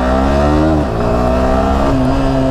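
A motorcycle engine, a bike ridden in Chandigarh, revs loud and close with steady harmonic drone and a brief dip and rise in pitch, without talk.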